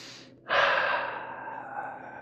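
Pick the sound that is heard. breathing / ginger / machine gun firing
breathing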